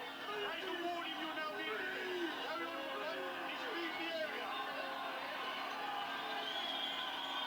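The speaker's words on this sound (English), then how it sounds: "So this crowd's heading towards Hyde Park" A protest crowd marching toward Hyde Park in London makes a steady, distant murmur of many voices with occasional shouts and whoops, fairly faint and continuous throughout.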